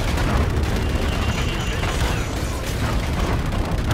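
Loud, continuous rumbling blast noise from an explosion in the sci-fi shooter Call of Duty: Infinite Warfare, a dense sustained roar with crackling bursts filling all four seconds, no voices.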